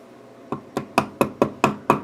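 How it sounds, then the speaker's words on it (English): Seven sharp metallic taps of a punch marking screw hole centres on a guitar build, evenly spaced about a quarter second apart, close and crisp. "I'm going to take this punch, find the middle of these holes, so my screws can be started perfectly."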